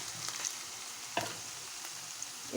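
Chopped onions sizzle quietly in a pan while being stirred for a bitter gourd (karela) fry, a soft steady crackle with a few faint scraping clicks and no talking.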